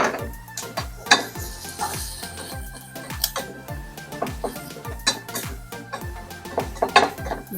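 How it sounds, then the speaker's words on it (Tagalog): Onions being sautéed in olive oil in a pan for a lentil dish, with regular clinking scrapes of a spatula against the metal pan in a steady rhythm over a soft background sizzle, close up. "Gisahin po natin itong sibuyas hanggang mag-brown."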